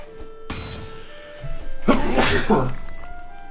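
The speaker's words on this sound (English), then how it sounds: "I'm gonna sneeze." A single sharp sneeze bursts out close by, preceded by a short intake of breath, with faint background tones.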